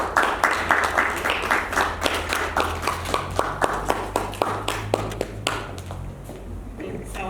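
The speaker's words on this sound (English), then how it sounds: "Can we give a round of applause to Ms. Gloria Zvaravanhu" An audience applauds a presenter at a women's network event, with steady, dense clapping at moderate volume that gradually thins out toward the end.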